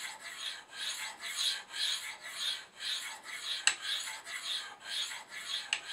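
A knife is drawn over the fine stones of a Spyderco Sharpmaker using the flat faces, producing a steady series of about ten rhythmic raspy strokes, close and moderately quiet, with a couple of light clicks.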